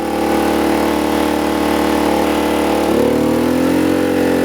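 Small VOIN petrol generator running under load, a loud, steady engine drone close by whose pitch drops and shifts as the load changes, with no talk over it.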